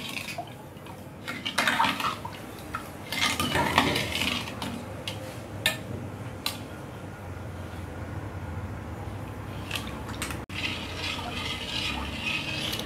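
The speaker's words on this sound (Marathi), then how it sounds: "हे आता चांगल्या तऱ्हेने ढवळून घ्यायचं आहे, मिक्स करून घ्यायचं आहे" Kharvas mixture of colostrum milk, milk and sugar stirred in a vessel, wet swishing and sloshing with scraping strokes, some louder bursts early on, continuing evenly without talk.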